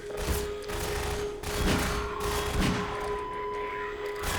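Magnum revolver fire in Half-Life 2, a run of loud, sharp gunshots with bursts of combat noise over a steady tone, repeated across the span.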